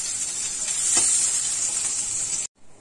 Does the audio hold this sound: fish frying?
yes